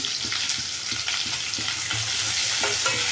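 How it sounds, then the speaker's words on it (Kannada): Onions fry in a pan for a horse gram greens curry, a continuous sizzle with stirring scrapes and small clicks, alone and fairly close. "ಈರುಳ್ಳಿ ಚೆಂದ ಫ್ರೈ ಆಗಬೇಕು"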